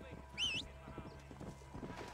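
Horse in the Red Dead Redemption video game neighs once and then approaches with soft rhythmic hoofbeats, quiet under game background sound.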